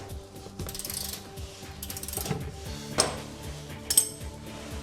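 A hand ratchet backs off a 13mm bolt on a Ford Territory diesel V6 during an oil change, giving close rapid bursts of ratcheting clicks and short metallic clinks.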